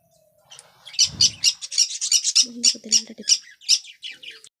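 Pigeons calling near where one has laid an egg: a rapid run of bright, repeated chirping squeaks with a few low throaty notes beneath, close and fairly loud, with no talking.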